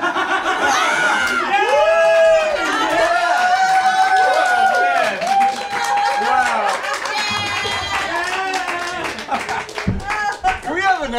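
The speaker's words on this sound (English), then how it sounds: "Applause for Prateek, who just disqualified himself in such unbelievable style" An audience applauds performer Prateek at a folk music show, with loud, continuous clapping mixed with cheers, whoops and some laughter throughout.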